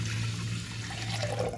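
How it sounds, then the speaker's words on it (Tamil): Water running from a tap into a vessel to wash one tumbler of rice for a medicinal rice porridge, a steady close splashing flow with no talk. "1 டம்ளர் ரைஸ் எடுத்துக்கிட்டு அதை நல்லா 3 தண்ணி ஊற்றி நல்லா"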